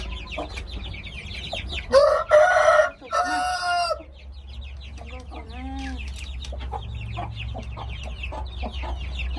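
Rooster crowing loudly once or twice near the start, followed by softer clucking and other bird calls from farm fowl over a steady low background hum.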